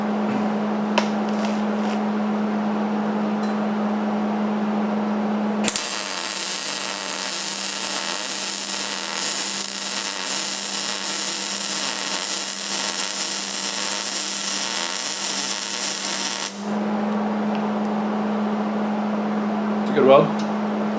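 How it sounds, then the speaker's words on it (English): Arc welding on a custom motor mount stand for a 1956 Ford F100: a steady, dense crackling hiss runs continuously for about eleven seconds at close range, starting and stopping abruptly against a constant background hum. "It's a good weld."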